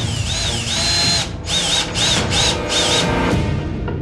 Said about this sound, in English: there are not many other alternatives but to drill the board